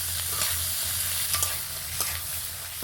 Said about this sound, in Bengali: এখানে ভালো করে নেড়ে চেড়ে সব কিছু একসঙ্গে মিশিয়ে নিয়েছি